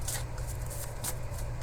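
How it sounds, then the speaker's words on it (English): A deck of cards being shuffled close up, with soft rapid riffling bursts recurring over a steady low hum, no voices. "Sometimes I swear I just sit here and shuffle my cards."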